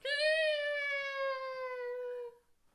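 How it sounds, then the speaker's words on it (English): A cat meows once in a long, drawn-out, steady call lasting over two seconds, clear and fairly close, in a rooftop setting, then falls silent. "I'm sorry, cat. I didn't mean to do that."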